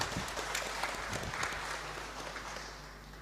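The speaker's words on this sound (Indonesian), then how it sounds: "mari kita tepuk tangan dulu untuk kemuliaan Tuhan" Church congregation applauding at a Christmas celebration in Denpasar, a soft continuous patter of many hands clapping throughout, heard at a moderate distance against a low hum.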